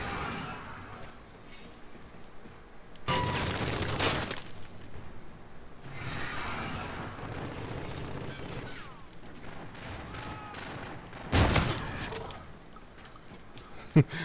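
Shotgun blasts in Call of Duty Infinite Warfare, a few loud, broad booms separated by quieter game noise and scattered smaller impacts, with a voice talking faintly in between.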